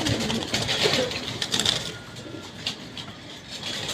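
Pigeons coo in a loft during a display of French meat pigeons, giving soft, low, repeated coos close by with faint background noise.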